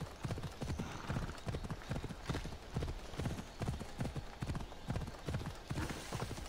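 Horse hooves clip-clop at a steady trot in Assassin's Creed Odyssey, a regular sequence of close, crisp footfalls.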